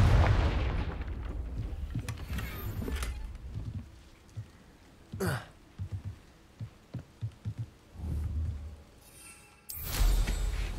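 Confringo fire spells blasting in the Hogwarts Legacy video game, heard as a string of sharp, punchy impacts and booms, several in quick succession mid-clip, with louder bursts near the start and end and no talk.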